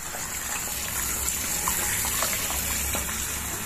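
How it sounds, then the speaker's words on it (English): Water gushing steadily from a kitchen tap while cooked brown rice is drained and rinsed in cold water for a vegetable stew, a constant broadband splash with no talk. "Now let us drain the rice in cold water and then add it to the stew."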